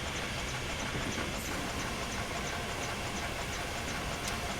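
A steam locomotive, the Flying Scotsman, running in a train simulator game, giving a steady, dense rumble of wheels and rail noise that fills the whole stretch at constant loudness, with faint clicks above.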